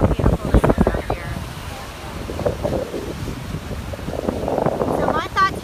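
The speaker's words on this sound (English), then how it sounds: "the wind is like really, really crazy" Strong wind gusts buffet the microphone on an ocean pier, a steady low rumble with surf beneath, while a person talks over it near the start and again toward the end.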